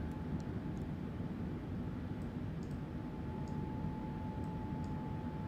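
A Boeing 747-8 climbs in Microsoft Flight Simulator 2020, a steady low engine drone and faint cockpit hum with soft scattered clicks, no talk.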